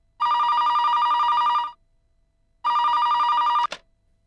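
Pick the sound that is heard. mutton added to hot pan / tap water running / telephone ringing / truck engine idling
telephone ringing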